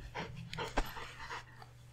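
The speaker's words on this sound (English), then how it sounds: "I have an 11-month-year-old Airedale Terrier going through the teething phase" An 11-month-old Airedale Terrier puppy, teething, pants softly in short quick breaths with a faint whimper mixed in, close by and quiet.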